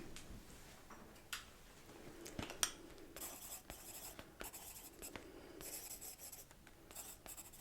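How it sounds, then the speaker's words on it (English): A pen writes on paper in a quiet, soft-spoken examination roleplay, with close, faint scratching strokes and small ticks running steadily throughout, no voice over them. "I'm gonna write that down."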